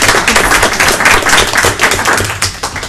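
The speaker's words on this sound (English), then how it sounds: "Let's give him a round of applause." Applause at a board meeting honoring a departing member: a room of people clapping steadily and fairly loudly for about three seconds, with a low room rumble beneath and no talk.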